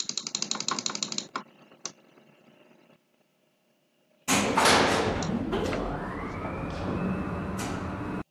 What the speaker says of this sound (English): I was about to press the door close button